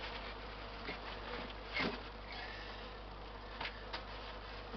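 Honey bees buzz in a dense, continuous drone around a newly set-up hive, with a few louder passes as individual bees fly close by.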